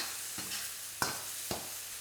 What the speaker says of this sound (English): So just going in, tiny bit of stirring just to make sure nothing's burning